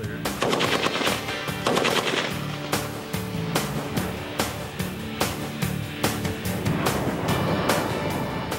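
Rifles fire at a military rifle range in rapid, overlapping bursts and single cracks, loud and continuous, with several weapons going at once and no talk.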